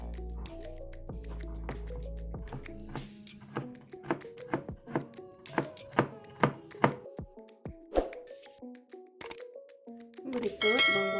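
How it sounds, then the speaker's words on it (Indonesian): Two garlic cloves being finely chopped with a knife on a cutting board: a run of crisp, close taps in an uneven rhythm, some ringing slightly, with a low hum at the start. "Bawang putih 2 siung, kita cincang ladu kecil."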